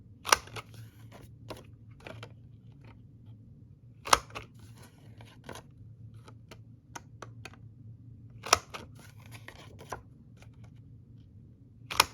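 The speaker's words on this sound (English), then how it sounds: "I'm going to go ahead and trim the corners so that it is a little bit more decorative" Corners of an oversized index card being trimmed with sharp, sparse snips and small paper rustles between them, close and fairly quiet over a low background hum.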